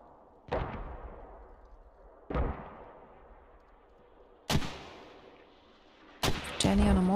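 Mortar fire in the Squad video game: four heavy booming launches spaced a couple of seconds apart, each with a long rumbling decay. The last lands under a short burst of speech.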